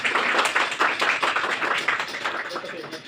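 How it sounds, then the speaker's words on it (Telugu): Crowd clapping as a birthday tribute to Mother Teresa at a community service gathering, a steady patter of many hands held at an even level for the whole stretch. "అందరూ చప్పట్లతోటి ఆమెకు నివాళులు అర్పిస్తాను."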